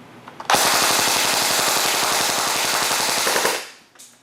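A G&G PDW 99 airsoft gun fires a sustained full-auto burst of about three seconds, a rapid, even buzzing rattle, close and loud, that stops abruptly and fades out.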